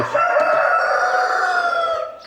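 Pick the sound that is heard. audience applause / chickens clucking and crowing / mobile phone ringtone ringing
chickens clucking and crowing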